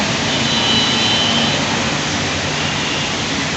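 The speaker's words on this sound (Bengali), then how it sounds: "বাহিরে একদম ঝুম বৃষ্টি হচ্ছে কি পরিমাণে বৃষ্টি হচ্ছে" Heavy rain pours outside at Cox's Bazar, a dense steady broadband hiss with no breaks, no voices heard, close and fairly loud.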